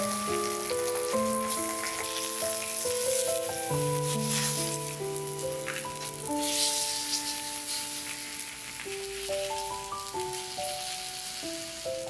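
A cabbage-leaf pancake coated in batter fries in a pan with a soft, steady sizzle under a gentle melody of sustained instrumental notes that lasts the whole time.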